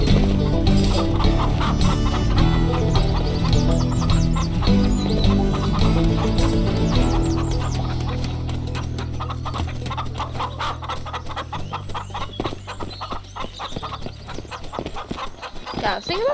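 Chicken clucks and squawks in the Shotgun Farmers video game rise over loud game music and shooting effects, fading somewhat in the second half as busy action continues.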